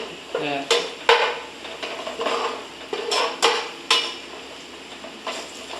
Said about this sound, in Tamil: வெங்காயம் நல்லா வதங்குற வரைக்கும் நல்லா வதக்கி விட்டுருக்கோம்